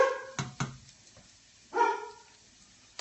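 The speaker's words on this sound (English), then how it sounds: "Edison made his barking appearance today" Several sharp dog barks in a home kitchen, a quick pair of close yaps followed by a longer bark after a pause, loud against a quiet background, with no talking.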